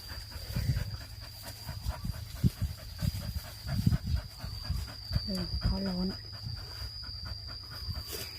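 A dog pants in short rhythmic breaths close by at a rural house beside woodland, with a brief whimper and someone talking over much of it.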